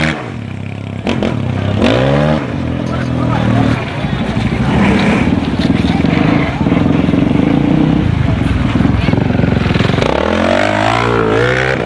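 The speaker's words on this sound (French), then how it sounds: "On fait des démonstrations de maîtrise de la moto." Motorcycle engine revving hard and continuously during a stunt-riding skills demonstration at an outdoor show, with rising and falling throttle bursts, near and loud, and a crowd or announcer voice underneath at times.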